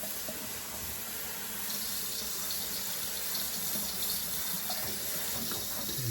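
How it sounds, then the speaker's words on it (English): Tap water runs steadily into a sink while lye-treated hominy is rinsed, a soft constant splashing hiss that swells slightly partway through, with no talking. "And get this rinsed off here"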